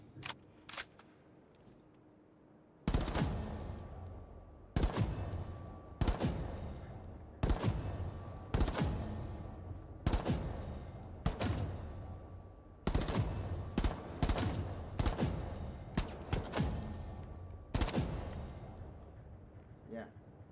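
Gunfire from a weapon in the mobile shooter Rainbow Six Mobile, played on a Samsung S26 Ultra, comes in a series of short automatic bursts separated by brief pauses, loud and close over a quiet background.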